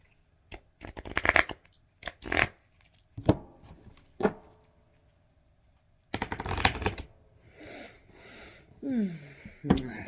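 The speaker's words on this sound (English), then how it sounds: "I gotta shuffle this one" Cards being shuffled in several quick riffling bursts, close by, with pauses between and a few faint clicks and breathy sounds.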